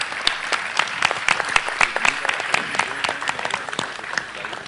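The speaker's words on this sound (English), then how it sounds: "huge round of applause" Lively applause from a live audience at a Bollywood Lavani dance performance, sharp claps crowding together at close range and sustained at full strength, thinning slightly toward the end.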